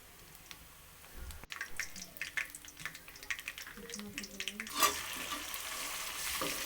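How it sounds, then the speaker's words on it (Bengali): Onions frying to brown in a pan with cardamom, bay leaves and whole peppercorns for a beef bhuna, giving a quiet sizzle with scattered stirring clicks and scrapes that grows into a fuller hiss near the end. "এখন পেঁয়াজগুলো আমি ব্রাউন কালার করে ভেজে নিব।"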